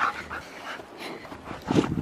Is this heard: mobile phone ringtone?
no